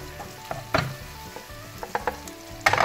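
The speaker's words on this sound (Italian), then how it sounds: "mescolo" Vegetables being stirred in a frying pan for a rice salad, a steady low sizzle broken by scattered scraping clacks of the spoon against the pan, close and fairly quiet, no voices.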